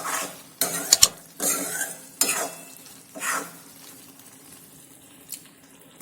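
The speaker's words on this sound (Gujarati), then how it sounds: "બધું સારી રીતે આપણે મિક્સ કરી લઈશું" Roasted peanut powder is stirred into a ripe banana curry in a pan, with repeated bursts of scraping and soft sizzling separated by quieter pauses.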